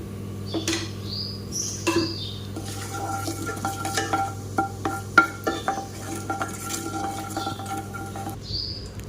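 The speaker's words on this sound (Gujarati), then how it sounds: "આપણા રાઈ જીરું મસ્ત તતડી ગયા" Mustard seeds and cumin crackling in hot oil while cooking a raw mango curry, with scattered sharp pops and clicks over a steady sizzle, plus occasional utensil clinks nearby.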